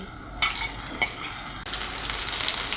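Chopped onion and green chilies hit hot oil in a pan with a few quick clatters, then a loud sizzle that rises and keeps crackling close by.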